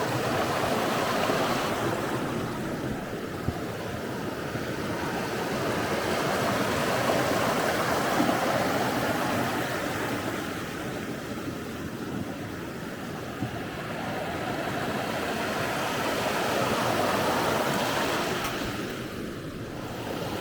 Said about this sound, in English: Ah, the sound of water.